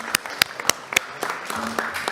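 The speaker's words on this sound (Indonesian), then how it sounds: "Kita berikan aplaus." Sparse, scattered hand-clapping from a small group at an Indonesian parliament Commission XI session, with a handful of distinct claps spaced out over a couple of seconds.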